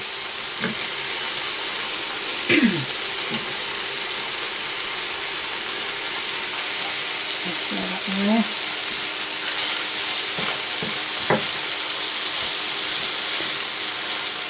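Meat for a steak pie browning in a frying pan, a steady, broad hiss of sizzling that runs throughout, with a few faint clinks and brief voice-like sounds in the background.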